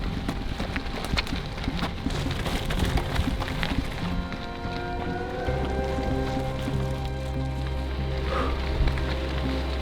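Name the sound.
bicycle tyres crunching on gravel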